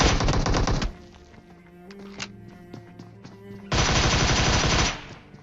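Pistol fire in PUBG Mobile, played on an iPad: two loud, close strings of quick rapid shots separated by a quieter stretch of faint game sounds.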